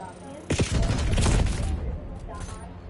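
Automatic weapon fire in Call of Duty multiplayer: a dense, loud burst of rapid shots starting abruptly and rattling for over a second before fading, with game sounds continuing afterward.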